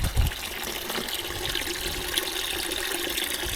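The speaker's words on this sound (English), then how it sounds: "we're draining this out now" Coolant drains out of a Mercedes 410D engine in a steady gushing pour of liquid, close and continuous, with a brief splash at the start.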